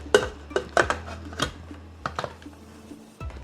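Metal pan and lid clatter in a kitchen while cooking beetroot stir fry: several sharp, close clinks and knocks, some in quick pairs, over a steady low hum, with no talking.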